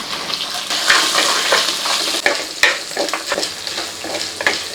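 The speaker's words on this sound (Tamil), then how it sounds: "பூண்டு சேர்த்துக்கலாங்க கூடவே சின்ன வெங்காயம் சேர்த்து நல்லா வதக்கலாம்" Urad dal, garlic, shallots and ginger sizzling and being stirred in a pan for a simple chutney, with steady frying crackle and repeated spatula scrapes and clinks, close and fairly loud, no talking.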